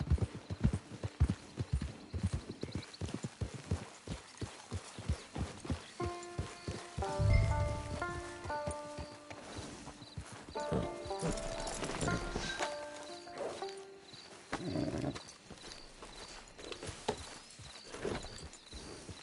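Horse hooves clip-clop on the approach to a camp, an uneven run of close, sharp knocks, with a whinny and bursts of tonal sound midway through, then more scattered steps toward the end.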